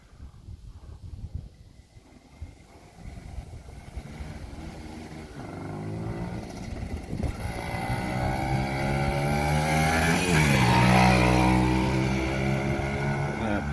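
A Kawasaki KE100 two-stroke motorcycle engine runs, building from a rough idle into louder revving near the end, its harmonic drone rising and falling as the throttle opens; the bike is smoking and running rich, and no one speaks.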